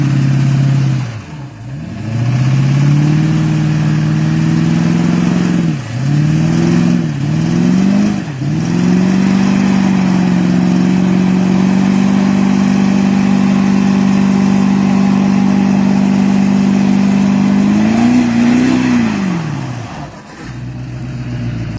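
A Duramax diesel engine in a Squarebody Chevy truck revs hard and loud, with several quick throttle blips dipping and climbing, then a long sustained high rev before dropping back, heard up close with no talking.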